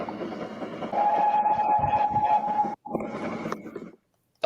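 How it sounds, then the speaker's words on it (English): A Great Western-style steam train whistle sounds in a long, steady blast, then briefly cuts out and resumes more faintly before falling silent, with rumbling rail noise beneath it. "That's his whistle is actually a Great Western whistle."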